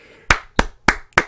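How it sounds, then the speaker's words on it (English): Four slow, evenly spaced hand claps ring out close and crisp, a deliberately restrained golf clap with short gaps between each. "Golf clap that man"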